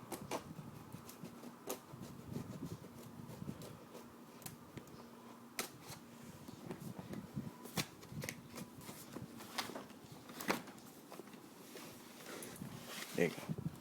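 During a MacBook Mid 2010 unboxing, a blade cuts open the box packaging, heard as faint, close scratchy slicing and rustling with sparse sharp clicks and ticks.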